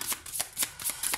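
Slippery playing cards shuffled by hand at close range, five quick crisp riffles in a steady rhythm, with no voices.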